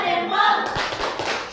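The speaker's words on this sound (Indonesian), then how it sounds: "Tepuk tangan dulu buat kelompok 3" Classroom of middle-school students clapping for a group of classmates, short and busy hand claps under a teacher's voice, with a few sharper claps standing out near the end.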